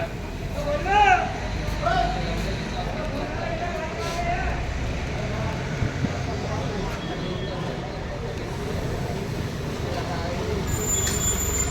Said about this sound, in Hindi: बसें अपने निर्धारित समय से पहुंच रही हैं